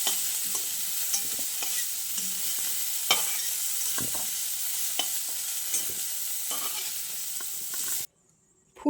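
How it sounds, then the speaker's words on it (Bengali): Cauliflower florets lightly frying in oil in a karahi while being stirred, a steady loud sizzle broken by repeated scraping and clinking of the spatula, close up and without speech, cutting out abruptly near the end. "ফুলকপিগুলোকে আমি খুব বেশি লাল করে ভাজছি না, হালকা একটু ভেজে নিয়েছি"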